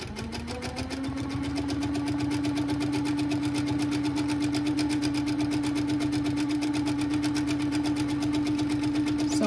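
Close and continuous, a sewing machine hums and clatters at a steady fast rate while free-motion quilting a practice panel, with a constant motor whine under the rapid needle strokes.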